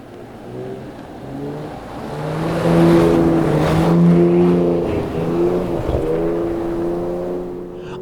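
A 2026 BMW M340i Jahre Edition on winter tires accelerates from inside the cabin, its engine note rising steadily and droning through the gears, then holding at cruising revs with a smooth, continuous hum and faint road noise.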